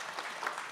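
Audience applause greets the next speaker at a church book-launch forum, a soft, even wash of many hands clapping at a distance, brief and steady with no voices over it.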